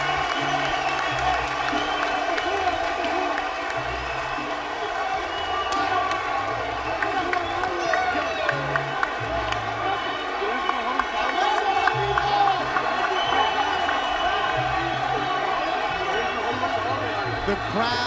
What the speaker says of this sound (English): The crowd still cheering, standing up.